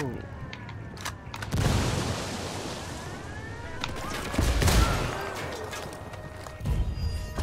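Gunfire and explosions in the video game Ghost Recon Wildlands during a lab mission, with loud bursts and booms around 1.5, 4.5 and 6.7 seconds over a steady rumbling background.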